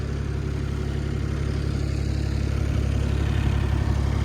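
A Carter CT12BU mini excavator idles at lowered revs with a steady, even low diesel drone, close and continuous with no talk.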